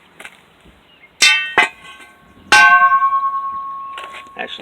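Heavy metal part salvaged from a Lear Siegler AC motor, struck twice so it rings out like a bell, each clang sustaining a long pulsing tone, with a few lighter clinks and handling knocks around them.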